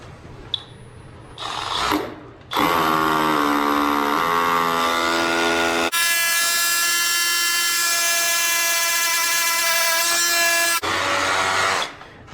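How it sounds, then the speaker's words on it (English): A Milwaukee M12 12-volt hammer drill bores into a hard glass block, loud and close, with whining motor tones that shift pitch across several sustained bursts and brief stops between them. "That M12 is actually a really good hammer drill for a 12 volt, and it actually works really well in this block."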